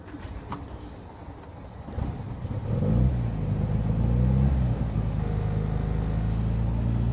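A 1967 Morgan Plus 4 Super Sport, long parked outdoors, cranks with the choke pulled, then catches and settles into a loud, rough, steady idle close by; a bird coos faintly before the engine fires, and no one speaks.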